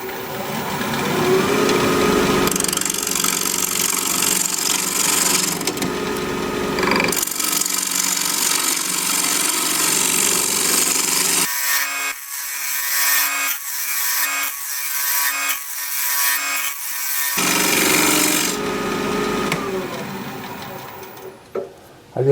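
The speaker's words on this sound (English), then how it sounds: "We're going to be turning at 1400 RPM, 1/2-inch bowl gouge, mask and face shield on." A bowl gouge cuts wood on a lathe spinning at 1400 RPM, producing loud, rough scraping and hissing that comes in long passes, drops out briefly, then returns.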